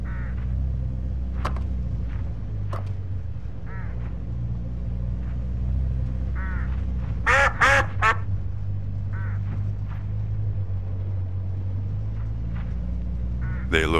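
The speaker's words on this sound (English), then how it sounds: "Look, hooded crows all along this road." Hooded crows along a road in a video game give repeated short, harsh caws scattered across a steady low vehicle rumble, with a brief louder burst of calls midway.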